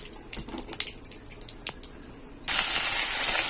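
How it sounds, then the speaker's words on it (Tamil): Fennel and mustard seeds splutter in hot oil in a kadai: scattered sharp pops and crackles at first, then an abrupt loud, steady hiss takes over. "எண்ணெய் காஞ்சி வந்துருச்சு. பெருஞ்சீரகம் சேர்த்துருக்கோம். இன்னும் கடுகு போட்டிருக்கோம்."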